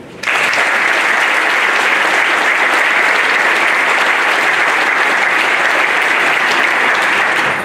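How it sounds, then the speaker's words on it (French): An audience at an August public speech breaks into steady applause, a dense wash of clapping that starts abruptly and continues evenly, loud and close, for several seconds. "On peut les applaudir."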